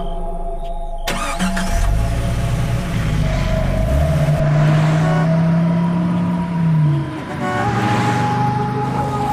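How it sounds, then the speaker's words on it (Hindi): A car engine starts with a sudden burst and then runs steadily, droning loud and close as the vehicle drives forward, with its pitch shifting as it moves. "गाड़ी थोड़ा और अंदर ले जाता है"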